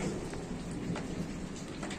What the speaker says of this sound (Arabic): اليوم الشتاء رجع، المطر رجع